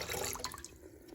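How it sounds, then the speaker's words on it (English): Two cups of water pour into a pot while snacks are being made, a short splashing gush that trails off into softer trickles and drips. "we have 2 cups of water. And you just pour it in like so."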